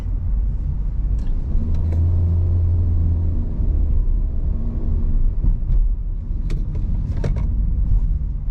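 A Hyundai Stargazer Essential driving in sport mode with traction control off, giving a steady loud low cabin rumble of engine and road noise, with a few faint rattles and clicks.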